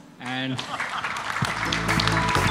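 Applause from the audience closes a panel discussion on OTT streaming growth at India Web Fest, a broad wash of clapping that rises after a short spoken word and carries on steadily to the end.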